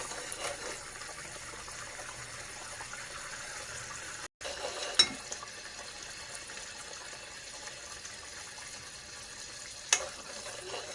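Butter simmers gently in a pan while being cooked down into homemade ghee, a faint, steady bubbling sizzle with a couple of brief clinks partway through.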